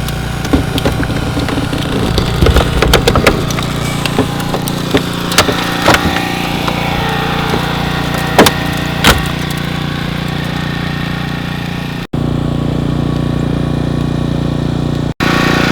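A hydraulic rescue spreader (Genesis Rescue) forcing open a car during extrication training, with a steady loud engine-driven hydraulic drone and sharp cracks and creaks of metal and wood-like splintering scattered throughout, briefly cutting out near the end.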